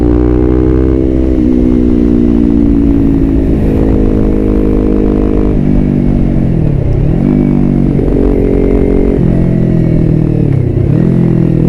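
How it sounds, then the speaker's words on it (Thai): A 2019 Yamaha R3 sport bike revs hard and loud close up, climbing repeatedly to the rev limiter and dropping back in a series of sustained, buzzing pulls with no talk over it. "ให้ฟังเสียงรอบตัดกันนิดนึงนะ"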